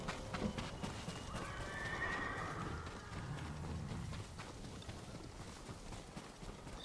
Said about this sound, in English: Leave the horses here.